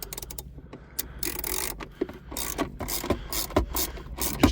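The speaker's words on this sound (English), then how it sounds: "in your center console with your 10mm," A ratchet with a 10mm socket works bolts out of a 3rd-gen Toyota 4Runner center console, giving close clicking and scraping bursts interspersed with a few sharp knocks, and no speech.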